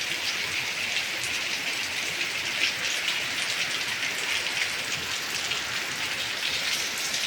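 Steady rain pours down without pause, a dense hiss of drops pattering on nearby surfaces throughout.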